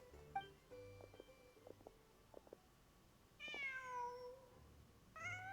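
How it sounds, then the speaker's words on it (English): A cat meows in Genshin Impact, a couple of short mews heard alone over soft game music and chiming ambience, with no one talking. "Just a cat."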